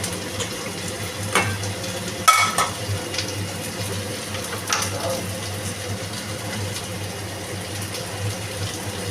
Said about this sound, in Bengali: আলু পেঁয়াজ ভাজছি।